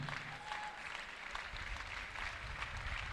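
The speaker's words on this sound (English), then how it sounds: "Please put your hands together for this young lady." An audience at a university orientation for newly admitted students applauds a student, with dense continuous clapping from a crowd that stays steady and fairly loud the whole time.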